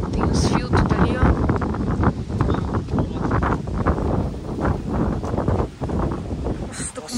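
Strong wind roaring outdoors in cold weather, a loud, continuous buffeting rush with gusty swells that batter the microphone throughout.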